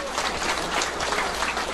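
A seated seminar audience at a network marketing business talk breaks into dense, continuous clapping, loud and close, with no voices over it.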